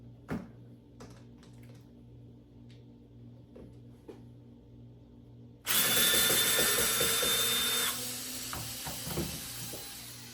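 Milwaukee M12 Fuel drill boring with a 3/4 inch bit into wood, a sudden loud motor whir and grinding bite after quiet clicks and handling, running a few seconds then tapering.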